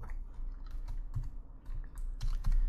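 Keyboard typing while entering PHP code, a run of quick uneven keystrokes with short pauses, close and moderately loud with no speech.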